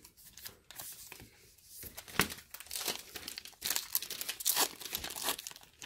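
Baseball card pack wrappers crinkle and tear open close by, in irregular bursts of rustling foil and sharp ripping that go on throughout.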